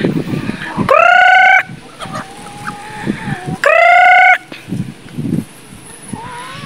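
Two loud, drawn-out honks from nearby geese, separated by a few seconds, with softer farmyard sounds and quieter calls between them.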